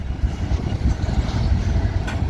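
A freight train rolls slowly into a yard in Minneapolis, a low, steady rumble of wheels and engine close by, with faint clanks over the continuous drone.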